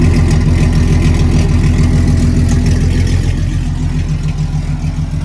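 A 4-liter V6 racecar engine idles loudly and close through its exhaust, a steady lumpy rumble that holds throughout with no talk.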